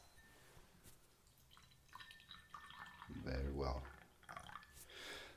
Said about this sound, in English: I'm gonna just pour the tea into the glass.